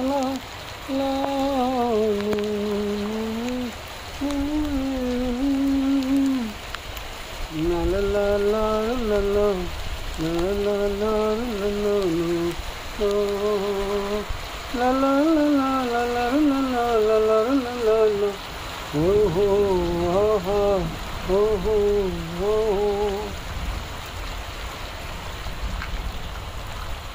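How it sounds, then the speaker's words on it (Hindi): Steady rain falls throughout the clip, a constant wash of broadband hiss. A voice sings and talks over the rain for most of its length. "आज बुध का दिन है और बारिश अच्छी तरह से हो रही है"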